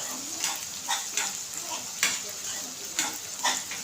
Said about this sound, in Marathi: आपल्याला इथे चांगलं हलवून हलवून हे होईपर्यंत आपल्या इकडे हे भाजलं जातं रवा